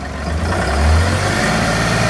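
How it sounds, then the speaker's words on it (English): A Massey Ferguson 4709 tractor engine idles steadily at close range with a low, quiet rumble that swells slightly midway, with no talk over it. "it's a fairly quiet tractor"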